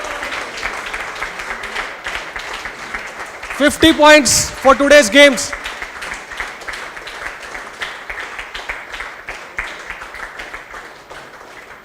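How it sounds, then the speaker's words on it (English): Audience applause for the winning team at a Gaura Purnima games event, a steady patter of clapping running under someone speaking over a microphone, with a brief louder burst of voices in the middle. "Big round of applause."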